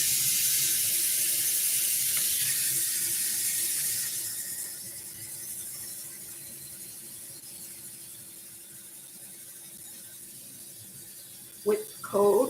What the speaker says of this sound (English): You're also going to fill up your pot for the chicken.